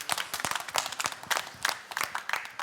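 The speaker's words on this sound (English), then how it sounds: "let's give her a clap" An audience claps for a woman who has just spoken at a talk, with sharp, uneven hand claps from a smallish group. It is brief and fairly close, and no one speaks over it.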